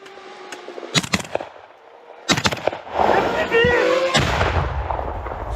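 Artillery fire and FPV drone drops hitting a frontline position: sharp loud blasts around one second and two and a half seconds in, then a sustained roar of rumbling noise, with voices talking.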